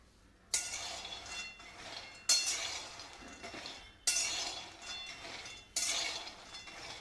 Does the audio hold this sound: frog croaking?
no